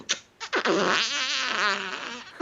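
A man imitates a small creaking door opening with his voice, producing a drawn-out, wavering squeak that rises and falls for about two seconds, loud and close.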